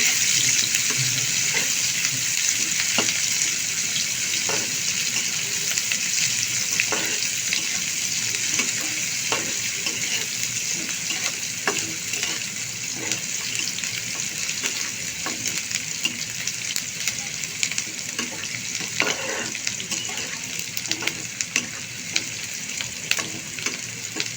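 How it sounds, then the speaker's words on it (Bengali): Chopped onions frying in oil until golden brown for a spicy egg bhuna, a steady loud sizzle with repeated scraping stir strokes throughout, no talking. "এখন এই পেঁয়াজ কিছুটাকে আমি একটু গোল্ডেন ব্রাউন করে ভেজে নিব"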